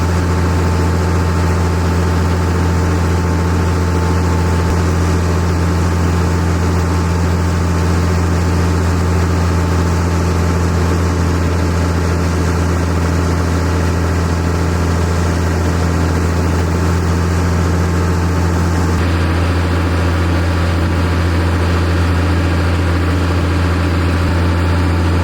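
A Versatile tractor's engine runs steadily and loudly, a deep constant drone with a strong low hum that holds unchanged for about twenty-five seconds while hauling liquid manure.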